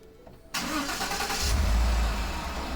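Ford F-150 FX4 pickup, 2013, with a 5.0 Coyote V8, cranking and catching quickly, then settling into a low, steady rumbling idle close by; no talking.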